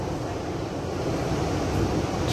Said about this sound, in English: A little bit of a breeze, but it's beautiful.